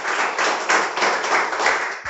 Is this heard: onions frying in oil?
no